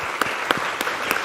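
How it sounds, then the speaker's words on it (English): Audience clapping for a lecturer after a distinguished lecture, a loud, brief burst of applause with a few sharper individual claps standing out. "And so, let's give Dr. Baxter another round of applause"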